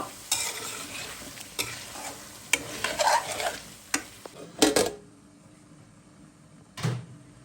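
Chicken pieces and potatoes are stir-fried with spices in a pan, with a soft sizzle under repeated sharp scraping and clanking strokes of a spatula, irregular and close, falling quiet near the end before one last knock.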